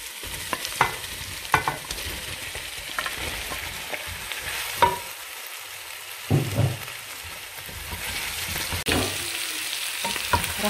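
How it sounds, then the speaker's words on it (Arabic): Zucchini sautés with meat and onion in a pan: a steady crackling sizzle with occasional spatula scrapes and knocks, close and moderate in level, without any voices. "رح ضيف الكوسة فوق اللحمة"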